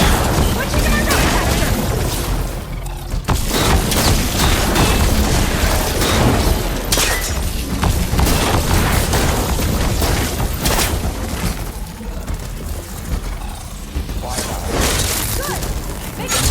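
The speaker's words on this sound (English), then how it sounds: "You caught him in the blast! Switching to my rocket" Rocket blasts and explosions in Horizon Forbidden West crash in a dense, loud, continuous barrage of booms and shattering bursts, with voices calling out beneath the chaotic combat noise.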